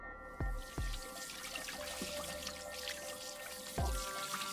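Water tap running outside a surau at night, a steady close stream of trickling water with a few deep, hollow drip impacts in between.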